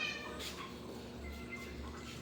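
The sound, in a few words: pet cats meowing before feeding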